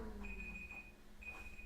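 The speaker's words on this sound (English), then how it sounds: "James, Um, what are you beeping about?" Two electronic beeps, a short steady tone and then another starting near the end, sound at a games developer conference over a low hum of room noise.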